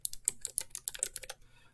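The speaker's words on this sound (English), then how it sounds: "The chassis is very quiet, but the keyboard is clickety-clack," Rapid keystrokes clatter on the keyboard of an MSI GT75 Titan gaming laptop, a quick run of sharp clicky taps close to the microphone, thinning out toward the end with no voices.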